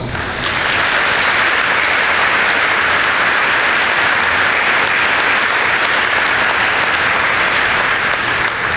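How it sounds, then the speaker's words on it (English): Loud, sustained applause from a large crowd at a high school graduation ceremony, a dense unbroken wash of clapping that holds at an even level throughout. "Let's give them a round of applause."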